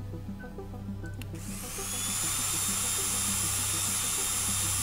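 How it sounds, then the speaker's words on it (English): A drill in the video game Stories Untold starts up after a few faint clicks, quickly winding into a loud, steady high whine with a low hum underneath that holds to the end. "Switch drill on."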